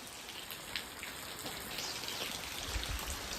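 Rain falls steadily, a soft, even hiss of drops on surfaces with scattered closer patters, continuous and faint throughout.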